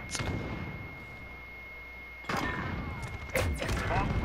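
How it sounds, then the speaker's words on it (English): Explosions and bursts of gunfire in Call of Duty: Modern Warfare, heavy booming blasts at the start, near the middle and toward the end over a steady background of battle ambience. "Why is there so many explosions?"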